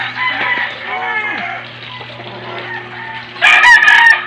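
A rooster crows loudly nearby in a drawn-out call, with other chickens clucking and a steady hum underneath, ending in a sharp, bright burst.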